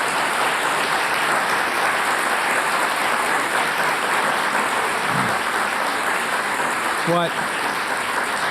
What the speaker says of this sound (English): Could we give Jim a round of applause for such a courageous work?